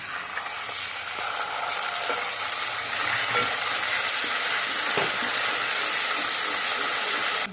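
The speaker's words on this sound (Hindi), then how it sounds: "अदरक लहसुन का पेस्ट डाल देंगे।" Ginger garlic paste frying with browned onions in a pan for chicken tikka masala gravy, giving a steady, loud sizzle with stirring scrapes throughout and no talk.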